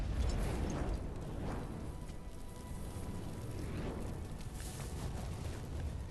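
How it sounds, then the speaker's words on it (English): A low, rumbling explosion from the game Arknights fills the space, a heavy sustained roar that swells at the start and keeps churning at steady loudness without clear separate blasts. "The explosion engulfs the room, devouring the graceful balance of light and shadow."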